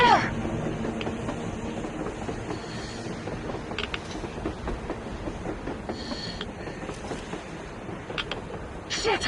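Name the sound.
train moving on the surface, Metro Exodus video game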